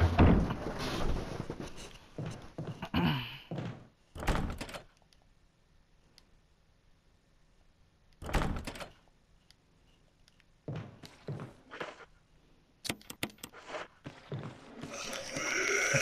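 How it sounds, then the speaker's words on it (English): In Resident Evil Remastered on PS4, a door opens and closes with heavy, muffled thunks and creaks, several separate bursts spaced by quiet gaps over a low, eerie background. "Better be careful how much I use that door."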